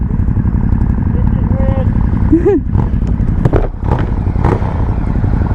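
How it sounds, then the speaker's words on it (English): Ducati Hypermotard 950 SP supermoto motorcycle being ridden, a steady engine drone with brief rising whines from revs over a constant rush of road and wind noise. "So this is the Ducati Hypermotard 950 SP."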